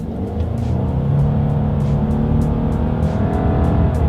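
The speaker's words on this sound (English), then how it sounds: "let's go ahead and see how quickly we can get this new 2020 Subaru Legacy here up to speed" A new 2020 Subaru Legacy accelerates hard up to speed, its engine note steady and loud from start to finish, heard up close with no talking.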